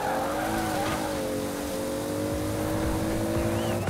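A Toyota Celica ST-185 in the racing game Forza Horizon 4 runs at full throttle, its engine holding a loud, steady high drone with tire squeal and skidding noise laid over it throughout.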